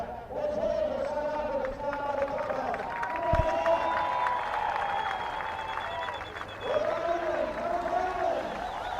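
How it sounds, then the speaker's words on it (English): Crowd at an England versus South Africa polo match for the Coronation Cup, murmuring and cheering with scattered applause, a steady wash of noise with a few louder swells, heard under commentators talking. "So the crowd on the edge of their seats, we can hear them from here."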